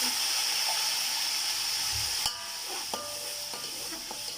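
Water poured onto golden fried onions in a pan for beef yakhni palao, a steady loud sizzle and hiss that sharpens into a burst of crackling and spattering as the liquid hits, with a few stirring clinks.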